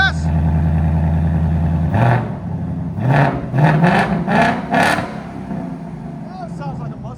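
A 500 hp 2024 Ford Mustang Dark Horse with an X-pipe and resonator delete revs in several close, loud bursts, each swelling and dropping back toward idle, with people talking over the engine.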